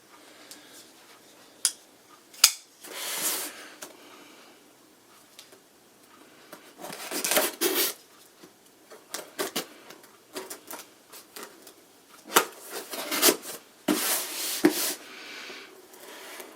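Close bursts of tearing and scraping as a cardboard mail package box is ripped open, coming in irregular rustling clusters with quieter pauses between them.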